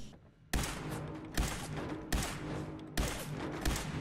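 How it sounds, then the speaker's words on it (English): Gunfire in Fallout: four loud, close gunshots spaced roughly evenly a bit under a second apart, each a sharp crack with a rumbling tail, starting after a short quiet lead-in. "No, I'm shooting you with a gun."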